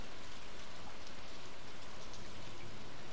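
Steady rain falls over a lake in Stardew Valley, a dense, even hiss of countless drops that fills the whole stretch without a break, with no voices.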